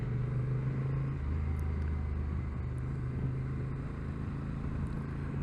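Steady low engine drone from a 2022 Honda NT1100 DCT motorcycle cruising at around 30 with the throttle off, a continuous close hum with no talking over it.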